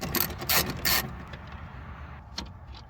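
A ratchet clicks in three quick bursts as it backs out 5.5mm speaker bolts in a Ford F150 door, followed by a quieter mechanical rustle and a couple of faint knocks.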